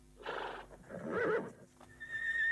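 A horse neighs: a short, loud whinny in two rising pulses, close by, with a faint hoof clip-clop and a thin tone after it.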